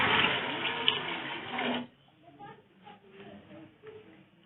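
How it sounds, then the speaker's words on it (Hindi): Water is poured from a container into a pot holding half a kilo of soaked lentils for chicken daal, a loud splashing gush lasting about two seconds before stopping, followed by quieter voice-like murmurs. "1 किलो इसमें पानी ऐड करूँगी"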